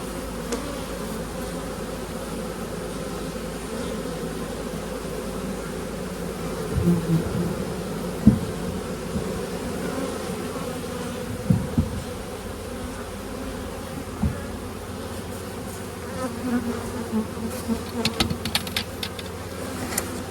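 Honeybees hum steadily around beehive nucs being fitted with lids and top feeders, a continuous low buzz with a few louder knocks and handling clatters toward the end.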